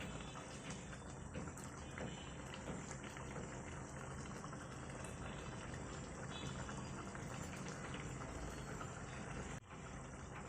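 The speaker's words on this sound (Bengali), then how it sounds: "গ্রেভিটা খুব ভালোভাবে ফুটে উঠেছে" Fish curry gravy for parshe macher jhal bubbles in a pan, a steady, dense simmering hiss and burble that runs unbroken throughout, moderately quiet and with no one talking.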